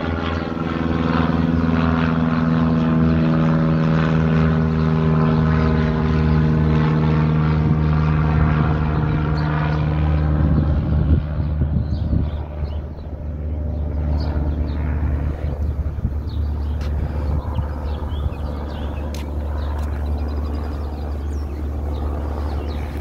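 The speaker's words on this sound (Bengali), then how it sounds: "পাশেই এয়ারপোর্ট আছে, প্লেন যাচ্ছে।" An airplane near an airport passes over a park, a loud steady engine drone that slowly shifts and eases into a broad rushing roar over about twenty seconds, with no talking.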